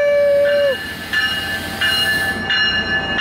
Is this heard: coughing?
no